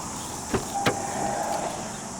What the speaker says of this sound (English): Window. The window down.